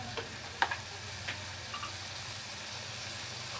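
Carrot halwa with almonds and milk powder is stirred in a pan, making a soft continuous sizzle with a few light scraping clicks from the spoon, close and quiet with no voices.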